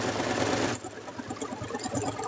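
A sewing machine back stitching fabric for a wizard hat, a close steady whir and then a quick rhythmic stitching patter after a brief change in pace, with no voices.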